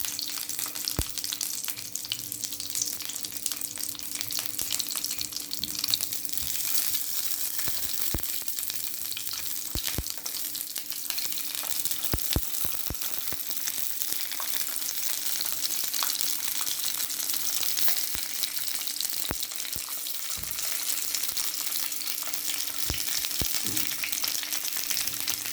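Steady crackling sizzle of stuffed peppers frying in sunflower oil in a pan, continuous throughout with occasional sharper pops, close and moderately loud.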